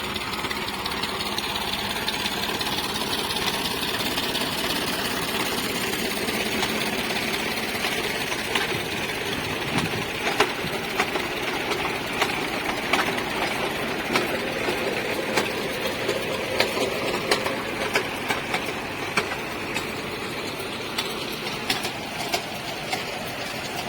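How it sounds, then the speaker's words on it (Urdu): A tractor engine drives a tube well pump beside kinnow fruit trees, a steady, close mechanical drone with a rhythmic knocking pulse that runs without pause for the whole stretch, with no voices. "ٹریکٹر کے اوپر ٹیوب ویل کیسے چل رہا ہے"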